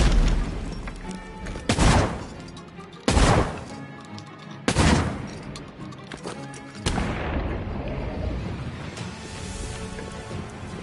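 A triple-barrel shotgun in Tormented Souls 2 fires four loud, booming blasts a second or so apart, each followed by a short decaying tail, the last one trailing into rumbling game noise.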